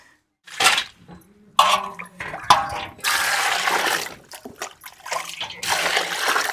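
Small anchovy-type fish being rinsed in water at home, with bursts of splashing and sloshing that rise and fall, then a longer steady stretch of running and swishing water, close and fairly loud.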